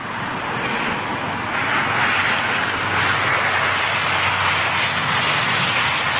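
An aircraft in a new livery flies by, a steady broadband engine roar that swells slightly and stays loud and close throughout.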